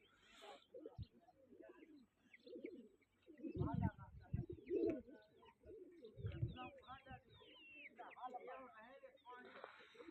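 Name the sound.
pigeons cooing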